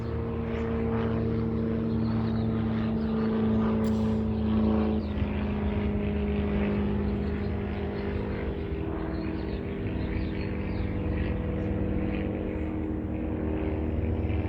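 A propeller aircraft drones steadily overhead, a continuous humming roar with a low tonal buzz that holds level and then slowly fades.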